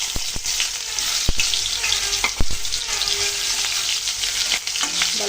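Onions frying in hot oil with cumin seeds in a pan, a dense continuous sizzle broken by sharp clinks and scrapes of a stirring utensil against the pan.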